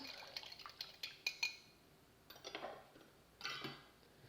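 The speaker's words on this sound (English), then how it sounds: "Now just whisk it up" A whisk clinks and scrapes against a bowl while dressing is mixed for a quinoa salad, with quiet, irregular bursts of tapping and swishing separated by short pauses.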